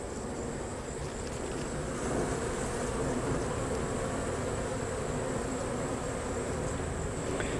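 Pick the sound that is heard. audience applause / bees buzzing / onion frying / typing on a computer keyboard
bees buzzing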